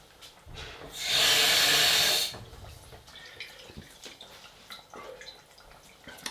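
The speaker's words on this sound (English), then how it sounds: "Put the whole jar of pasta sauce in there." Thick pasta sauce from a whole jar pours into a pan of bolognese with tinned tomatoes in a kitchen, a dense wet gush lasting about a second, followed by soft scraping and small clinks.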